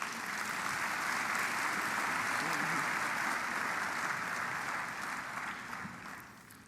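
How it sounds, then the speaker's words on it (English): An audience at an opening convocation claps steadily in sustained applause that holds for several seconds, then gradually fades toward the end. "Let's give all the members of our platform a round of applause."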